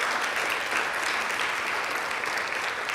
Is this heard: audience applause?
yes